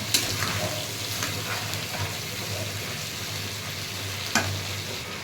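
Masoor lentils sizzle in a kadai, stirred with a spoon that scrapes and knocks against the metal; a steady frying hiss continues, broken by a few sharper clanks, with no voices.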